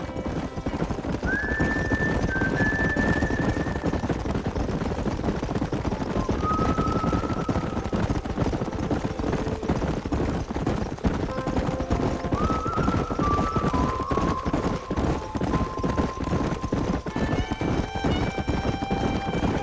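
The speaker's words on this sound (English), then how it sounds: "There's the horses!" Horses gallop in the video game Red Dead Redemption on Xbox One, with rapid, continuous hoofbeats throughout and several loud neighs and whinnies breaking over the pounding.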